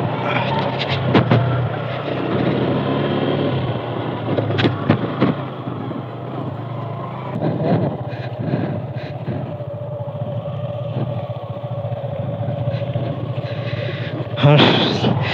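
Motorcycle ridden slowly along a rocky stream path in hilly country, rear wheel slipping; a steady engine drone runs throughout with bumps and splashes, while voices talk over it.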